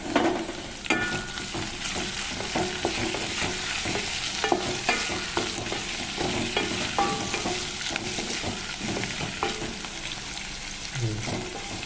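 Chopped ivy gourd (dondakaya) fries in a pan for a dondakaya fry while a spoon stirs it, with a constant sizzle under repeated scraping and clinking strokes that run throughout.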